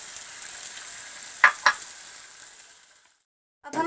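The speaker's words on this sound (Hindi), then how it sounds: "अब हम इसमें ये दाल ऐड कर देंगे।" Masoor dal frying with spices in a pan, a soft steady sizzle with two sharp knocks of a utensil against the pan partway through, fading to quiet before a brief scrape at the end.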